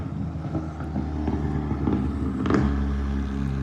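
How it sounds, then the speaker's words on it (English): An old pickup truck's engine rumbles low and steady in an outdoor garden, with wind buffeting the microphone; it grows slightly louder toward the middle as if passing fairly close. "that sounds like a pickup, an old car"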